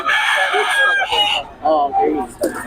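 Rooster crowing repeatedly at a Bocaue gamefowl market, loud and close, with someone talking over and between the crows.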